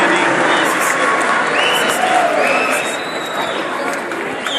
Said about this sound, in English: Give them a hand clap as they walk out.